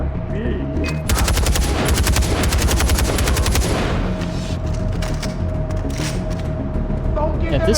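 Rifle fire in a war video game set in Kyrat rattles in a fast, loud close burst for a few seconds, then fades into battle ambience with scattered further shots, with game voices underneath.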